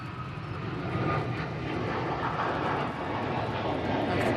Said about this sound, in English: I've got Ryanair still going off on that runway